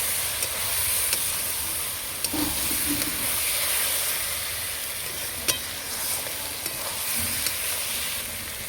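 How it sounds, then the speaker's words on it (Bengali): Gram flour stirred and fried with cabbage and peas in a pan, a steady sizzle and hiss under sparse spoon scrapes and clicks, with no voices. "ভালো করে বেসনটা নাড়িয়ে নেবো, কষিয়ে নেবো।"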